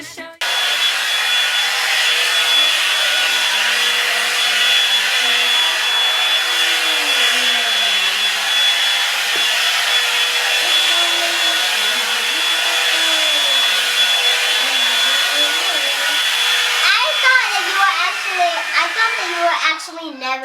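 A handheld hair dryer blows out a child's natural type 4 hair, its steady high-pitched whir running loud and unbroken for the whole stretch, with brief voices entering near the end.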